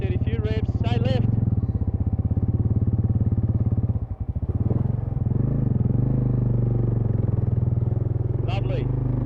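An off-road adventure motorcycle holds a steady engine note while riding along a rut on a dirt track near the Murray River, close and continuous with a brief dip, as a man gives instructions over it.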